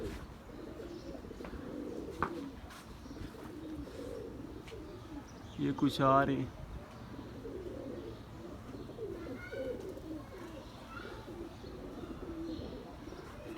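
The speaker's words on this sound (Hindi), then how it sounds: "ये देखिए कबूतर बैठ रहे हैं।" Pigeons coo softly and steadily, with a brief louder burst of activity midway, while someone talks over them throughout.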